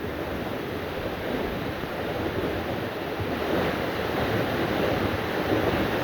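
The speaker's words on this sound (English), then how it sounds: "That water's moving pretty quick." Fast-moving river water rushes near a waterfall on an Appalachian hike, a dense, steady broadband roar that stays loud and unbroken, with some wind buffeting and no voices.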